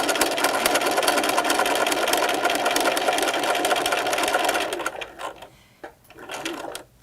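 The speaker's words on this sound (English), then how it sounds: "and then I just start sewing." A sewing machine runs steadily, stitching a fabric face mask with a window, its dense whirring drone continuous for several seconds before stopping and giving way to a few softer, scattered mechanical sounds.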